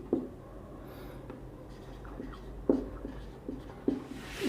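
Chalk or marker writing on a board during a chemistry lecture on stoichiometry, heard as soft scratchy strokes with a few sharper taps near the end, fairly close, with no talk over it.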